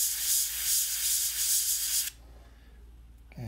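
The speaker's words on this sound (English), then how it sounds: "I'm gonna spray down there a little bit more." Aerosol spray paint hissing onto a painted hat portrait of Jacob deGrom, a steady close burst for about two seconds that cuts off abruptly, followed by quiet room tone.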